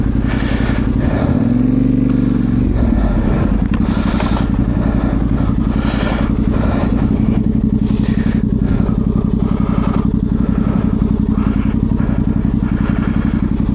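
A Yamaha Tenere 700 on a local ride makes a loud, steady engine drone right up close while it turns and spins round, with clatter and thumps from the bike over rough ground and no voices.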